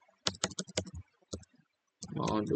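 Quick bursts of clicks from a computer keyboard being typed on, close by in uneven clusters with short pauses, ending in a louder, denser rustle.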